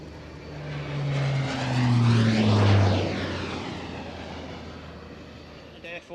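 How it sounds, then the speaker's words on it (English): An Air Force Boeing 757 passes overhead at an airshow, its jet engines swelling to a loud roar with falling pitch as it flies by, then fading into the distance. "Air Force Boeing"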